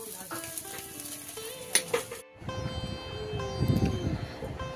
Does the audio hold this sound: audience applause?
no